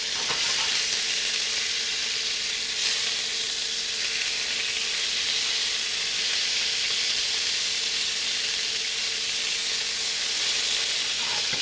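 Lamb sears and browns in a hot pan, giving off a steady, dense sizzle that holds at an even level from start to finish with no talking.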